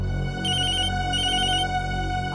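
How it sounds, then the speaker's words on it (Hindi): A telephone ringing indoors, two clear electronic ring bursts in quick succession at steady volume over a constant background hum. "आपका फोन बज रहा है।"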